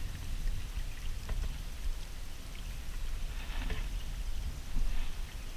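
Steady rain patters across a surface outdoors in the Temagami wilderness, with scattered drops standing out against a constant wash of low rumble. No voices.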